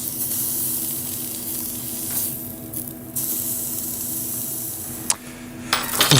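Sous-vide cooked meat sears in a hot pan with a loud, continuous sizzle and spitting hiss, interrupted by a few sharp clinks and pops of the pan.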